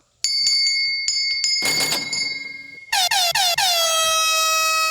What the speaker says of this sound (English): you guys said you did not like my bell ringing